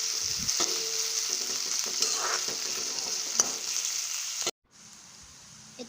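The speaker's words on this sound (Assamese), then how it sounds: "এতিয়া তেলখিনি গৰম হোৱাত পিঁয়াজ দি দিছোঁ।" Onion, ginger and green chilli frying in hot oil, a bright loud sizzle with stirring scrapes that cuts off abruptly near the end to a quieter hiss.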